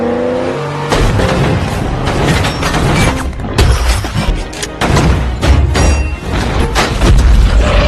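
A movie scene of a car being wrecked and exploding in a Terminator 2 chase, with loud crashing booms, shattering impacts and roaring engine rumble filling the whole clip after a brief quieter start.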